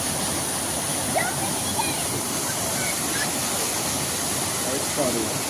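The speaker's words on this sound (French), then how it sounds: "Il y a une petite cascade." Steady rushing of a small waterfall, a continuous broadband splash with faint voices and birdlike chirps mixed in.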